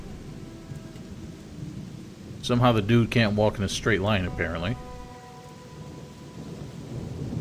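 Thunderstorm with rain in the Gothic 2 video game: a constant hiss of rainfall and low rumbling throughout, with someone talking over it in the middle.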